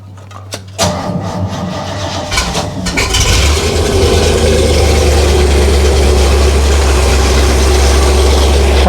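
A 1948 Willys Jeep engine sputters and catches after a few cranking bursts, then settles into a loud, steady, low rumbling idle close by with a constant mechanical drone and no talking.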